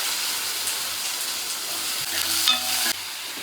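Tomatoes drop into a pan already frying onions, lentils and cumin, giving a steady close sizzle with scraping stirs and a sharper burst of spattering near the end.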